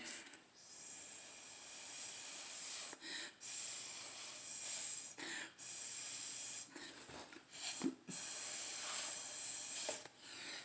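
Bursts of breath blown through a dropper onto wet acrylic paint for an abstract piece, heard as several close, hissing puffs separated by short pauses, with no talking.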